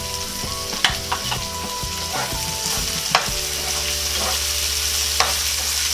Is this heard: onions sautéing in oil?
yes